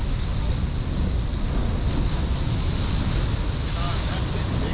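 Large ocean swell washes in over a rocky reef shore, a steady loud rush of surf and wind buffeting the microphone with no clear breaks, close and continuous throughout.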